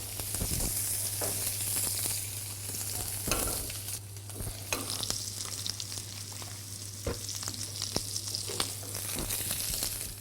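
Food glazed with olive oil sizzling and frying in a pan in a kitchen, a steady bright crackle with occasional sharper pops, close and continuous, no talking.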